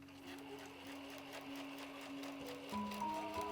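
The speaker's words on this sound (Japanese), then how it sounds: "そしたらこのように裏布を重ねて 2箇所ここ縫いますよ。" Sewing machine stitching a bag lining onto outer fabric for a small handmade bag, a steady continuous motor whir that shifts pitch near the end, close and alone.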